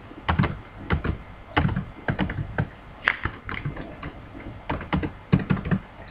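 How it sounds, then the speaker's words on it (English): Close-up clicking of keys on a computer keyboard, typed in irregular bursts with short pauses between, alone without any talking. "see, I am typing in a sequence order."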